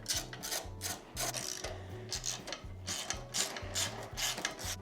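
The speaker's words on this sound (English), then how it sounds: "just remove the last 4 bolts holding on the fender" Ratchet wrench loosening the rear fender bolts on a Honda XR150L motorcycle, a steady run of rapid clicking strokes with a regular back-and-forth rhythm, close and fairly loud, with no voices.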